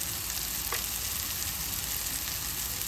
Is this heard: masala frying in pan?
yes